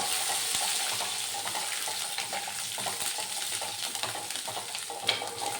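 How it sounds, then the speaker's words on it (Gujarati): Close sizzling of curry leaves and green chilies frying in hot oil, steady and bright, with scraping strokes of a spoon stirring the pan. "હવે એને હલાવી લઈશું"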